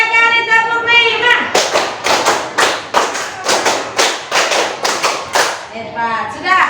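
A class of children claps in unison, three bursts of five sharp, evenly spaced claps each, loud and close, with a teacher's voice counting before and after.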